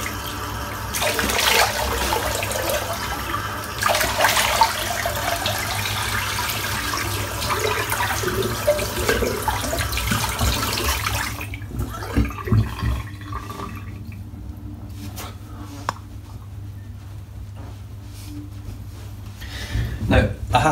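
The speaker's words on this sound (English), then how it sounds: "Just going to rinse off now." Water pours steadily from a tap in a bathroom as someone rinses off after a wet shave, a loud rushing wash for about eleven seconds before it drops away to quieter drips and handling sounds.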